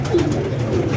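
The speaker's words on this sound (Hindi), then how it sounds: "अब ये कबूतर देखिए आप, ये हमारे घर का पट्टा है, ये देखिए।" Pigeons at a home loft coo softly, with two short throaty coos heard close by over a low background hum.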